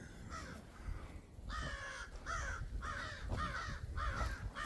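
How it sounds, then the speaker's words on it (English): Crows caw outdoors on a creekbed walk, giving a series of repeated harsh calls in an uneven rhythm, moderately close, over faint background noise. "Crows."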